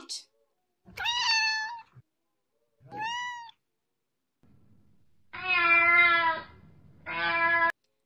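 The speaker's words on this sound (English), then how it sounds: "C for cat." A cartoon cat meows several times, with clear pitched calls separated by short silences. The last two are longer and louder.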